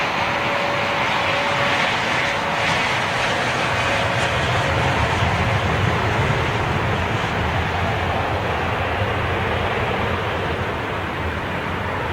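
An Iberia airliner operating for British Airways at Heathrow Airport gives a steady, broad jet roar that holds at an even level throughout, with no talk over it.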